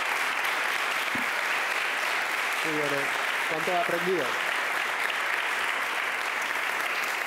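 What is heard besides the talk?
applause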